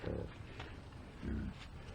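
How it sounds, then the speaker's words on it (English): Pigs grunting outdoors on a New Forest walk near Ashurst, two low rumbling snorts close by with quiet ambience between them. "I do love pigs."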